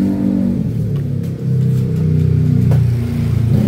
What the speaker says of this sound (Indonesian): Nah, starter dia sekarang menyala. Tuh, ya. Si motornya hidup.